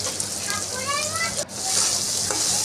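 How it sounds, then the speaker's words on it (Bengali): Chopped onion and green chilli fry in oil in a wok with a constant close hiss and sizzle, with a brief dip in the middle as the pan is handled. "তো কড়াইতে তেল দিয়ে পেঁয়াজ কুচি লঙ্কা কুচি দিয়ে দিলাম।"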